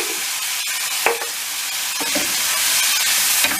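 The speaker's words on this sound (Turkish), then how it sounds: "Bunları şöyle bir güzel karıştırıyoruz." Mixed vegetables for a yogurt fry-up stirred in a pan after salt and chilli flakes go in, a steady loud sizzle with a few sharp scraping strokes of the spoon, no voices.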